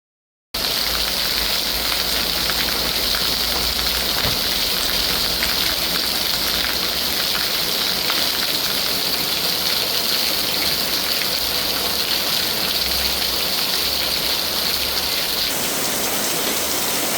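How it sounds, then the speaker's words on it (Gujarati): Rain falls steadily in Bhavnagar, a dense, even hiss of drops on surfaces that holds without pause from start to finish. "વરસાદના હળવા ભારે ઝાપટા વરસ્યા હતા"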